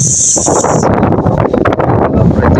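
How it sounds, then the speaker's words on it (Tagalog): Gusty wind roars across the microphone in loud, uneven bursts, with a brief hiss at the start and no talking. "Natagkaroon na rin sa mahangin nga lugar mga guys."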